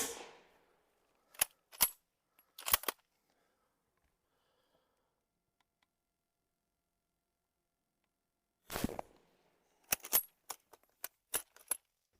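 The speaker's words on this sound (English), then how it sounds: "We can close the bolt with the classic straight handle and fire." A Persian Mauser bolt-action rifle fires two sharp, close reports with its bolt clacking between them, then after a long silence another shot followed by a rapid series of metallic clicks and clatter.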